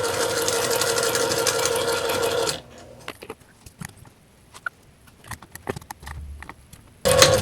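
A sewing machine stitches a Halloween fabric table runner made from fat quarters. A steady, fast whirring hum runs for a couple of seconds, then breaks into quiet handling clicks and taps before the motor starts again at the end.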